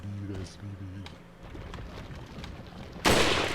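A single loud gunshot bursts out near the end in the VR game Resident Evil 4, following a stretch of low ambient game sound and voice.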